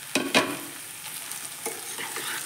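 Pieces of potol and potato drop into hot oil with garlic paste in a pan, giving two sharp splashing hisses followed by a steady, soft sizzle.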